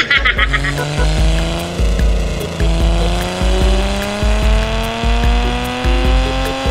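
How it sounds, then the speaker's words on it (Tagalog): A stock car engine in the Car Parking Multiplayer game revs loudly and repeatedly, pitch climbing through each rise, with sharp gear-change cuts in a rhythmic pattern, close up. "Ang lakas ng tunog ng kotse ko pero napakahina tumakbo."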